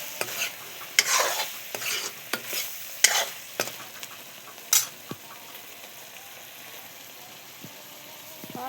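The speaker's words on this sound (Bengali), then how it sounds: "আমি এখন ডাকনি দিয়ে গুছাইয়ে নাড়াচাড়া করে পরিমাণে জল দিয়ে দিই।" Fish curry vegetables, brinjal and potato, stirred in a pan with a spatula, giving a series of close scraping strokes over a low sizzle, the stirring easing off after the first few seconds.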